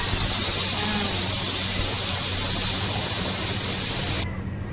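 Pressure cooker releasing steam while cooking junnu from cow colostrum milk, a loud steady hissing blast up close that cuts off abruptly near the end, leaving quieter background.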